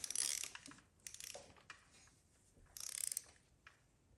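A torque wrench ratchets bolts down to 20 foot-pounds on the engine of a Mercedes 450SL, quiet bursts of fine clicking with short pauses between strokes, close and faint.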